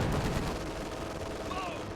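Booming blasts and rumbling impacts from bombs dropped on an anti-tank gun and infantry in a strategy war game, dense and continuous, with a faint whistling tone near the end and voices underneath.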